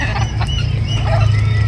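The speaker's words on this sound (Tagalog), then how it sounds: "Yung mga ibang manok kumakain." Backyard chickens clucking while they peck at yellow corn: a steady cluster of close, soft clucks over a low continuous hum, with no talking.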